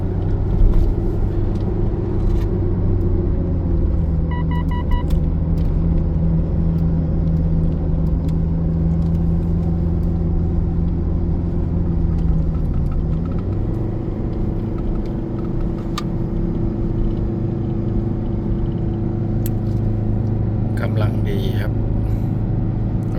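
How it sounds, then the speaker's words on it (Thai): A car engine holding low gear to brake on a long descent down a mountain road in Loei, Thailand, a steady droning rumble with an even engine note that dips briefly midway, with talk over it. "เสียงรอบเครื่อง"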